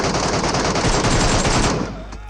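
An MK gun fires a rapid burst in PUBG Mobile, loud crackling shots packed together for under two seconds before trailing off.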